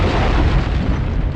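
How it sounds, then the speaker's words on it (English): A loud, sustained explosive rumble from The Operative: No One Lives Forever video game on PS2, a dense low boom filling the whole moment with no speech over it. "That's an explosion."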